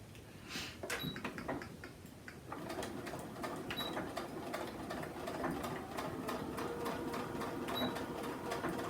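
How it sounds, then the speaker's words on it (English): A sewing machine runs in close, fast bursts while stitching a zippered cosmetic bag, its rapid needle chatter pausing briefly near the start and then continuing steadily, with a few faint light clicks over the top. "Don't forget to lock in your stitches to give it some nice stability."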